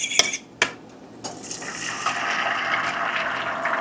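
Eggs are poured into a hot pan with bacon grease and crispy bacon bits, giving a couple of sharp clinks and then a rising, steady sizzle that carries on.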